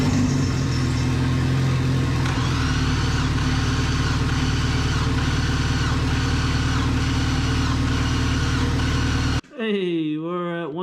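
A Corvette engine, jump-started from a DSM because of a dead battery, catches and runs at a loud steady idle with a faint rhythmic pulse, then cuts off abruptly as a voice starts talking.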